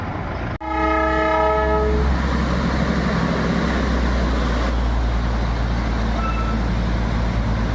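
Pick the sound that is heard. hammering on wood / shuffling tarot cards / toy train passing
toy train passing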